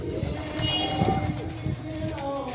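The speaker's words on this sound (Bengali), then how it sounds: "আর দেখছেন কত পায়রা রয়েছে" Giribaz pigeons coo in soft, low, repeated calls close by, over a busy background of other birds and faint voices.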